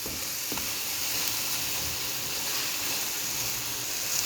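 Okra masala with yogurt sizzles steadily in a frying pan, a constant bright crackling hiss close by with faint stirring knocks and no voices.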